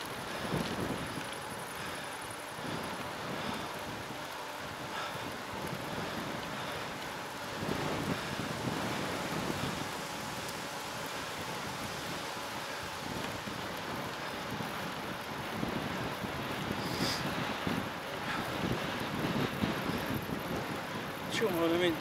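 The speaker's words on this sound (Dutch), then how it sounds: "de wind." Steady wind buffeting a microphone outdoors, a continuous rumbling roar with gusts swelling louder at moments, while someone talks faintly underneath.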